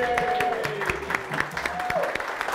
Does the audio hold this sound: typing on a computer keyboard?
no